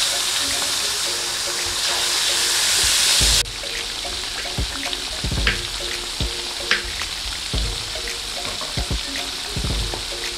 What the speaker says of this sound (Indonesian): Setelah minyaknya panas, kemudian kita masukkan ikan tuna. Kita goreng hingga matang dan warnanya kecoklatan ya.